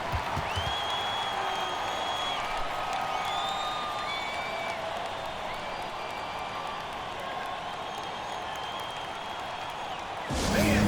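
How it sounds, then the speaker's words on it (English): Steady crowd applause and cheering fill an arena in the NBA 2K26 basketball game, a dense sustained roar with whistles and whoops throughout, swelling louder in the final second. "Please give a big round of applause for you, this squad."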